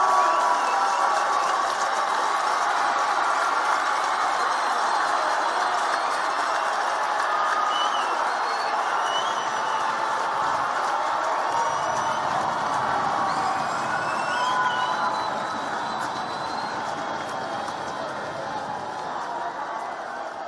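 A home crowd at a South Brunswick high school state championship football game against Manalapan roars during a timeout, a dense, sustained wash of distant cheering that eases slightly toward the end.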